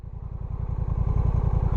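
A 2021 Honda Rebel 1100 motorcycle engine running nearby, a rhythmic low thumping pulse at idle, steady and fairly loud, with no talking.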